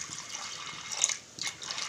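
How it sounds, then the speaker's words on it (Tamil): Water pours over soaked cowpeas in a cooking pot, a soft, close splashing and trickling with a short pause before the pour resumes, and nobody speaks. "இப்போ தண்ணி ஊற்றிக்கலாம்"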